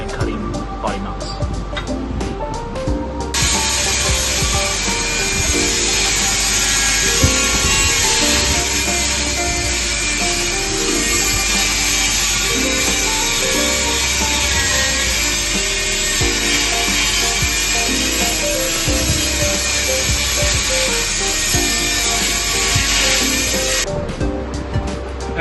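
A power cutting tool grinds through a Toyota body mount in a long continuous cut, a loud harsh metallic whine running for about twenty seconds between short stops and bursts, with no voices heard over it.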